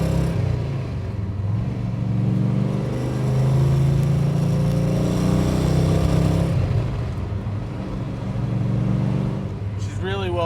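A 1965 Ford Mustang Shelby GT350 tribute idles and warms up, a steady low engine rumble with slight surges running throughout.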